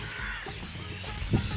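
A voice calls out repeated rhythmic caws in imitation of a crow, summoning the bird to food set out for it. The calls come in short, evenly spaced bursts, close and moderately loud.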